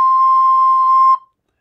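A recorder sounds a single sustained high C, steady and clear from start to finish, then stops abruptly with a short tail and silence.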